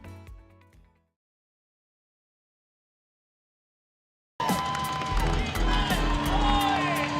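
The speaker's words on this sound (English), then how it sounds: "Both teams cheering sections, making some noise as they try to fire up both teams for one final quarter" Cheering sections at a high school girls' basketball game in Jamestown roar after a few seconds of silence, a loud crowd of shouts, whoops and clapping echoing through the gym, with squeaking sneakers and voices mixed in.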